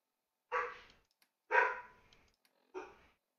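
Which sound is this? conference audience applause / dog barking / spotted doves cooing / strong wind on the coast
dog barking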